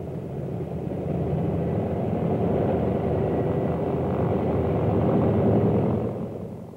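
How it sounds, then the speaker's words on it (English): World War II photo-reconnaissance planes in the Pacific make a loud, steady engine drone that builds slowly, holds, and then begins to fade at the end. "The planes raced back to their base with their high-priority cargo."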